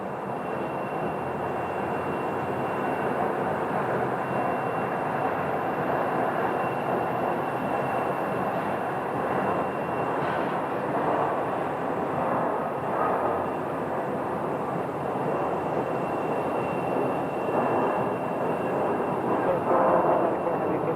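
A jet airliner landing on runway 26 at Phoenix Sky Harbor airport, a broad steady roar heard from a distance that holds for the whole stretch without easing.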